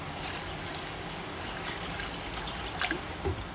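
Rice being rinsed by hand in water in a rural Philippine kitchen, washed three times; a steady, close trickling and sloshing of water runs throughout, with a couple of slightly louder splashes near the end.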